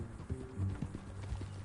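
Horse hooves clip-clopping at a steady walking rhythm in Red Dead Redemption 2, moderately close and fairly soft, with low game ambience beneath and no talk.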